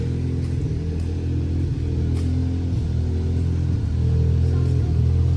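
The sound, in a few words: car engine running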